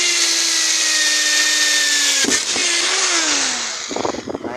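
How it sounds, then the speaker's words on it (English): Power drill with a hole saw cutting into a plastic bucket, a loud steady motor whine that bogs and shifts pitch as the teeth bite, ending in rough chattering grinding as the cut finishes. "follow me as I actually do the drilling. I use a hole saw"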